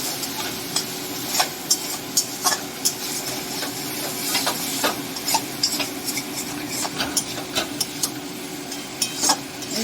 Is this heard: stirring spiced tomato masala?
yes